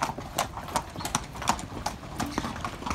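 Ponies trot past at a pony camp, their hooves clip-clopping in a quick, uneven rhythm at moderate distance, with faint background noise.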